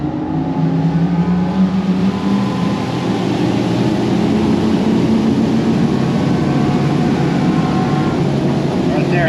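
A Formula 500 SSC motor yacht powered by four Mercury Verado 600 outboards roars at speed with a loud, continuous engine drone and rushing water, heard from on board as people talk over it.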